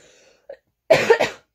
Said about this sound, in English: I'm still got a little cough from croup